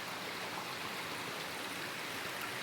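Creek water flows steadily at Sitting Bull Falls, a constant, even rushing hiss that stays at the same level throughout, with no voices.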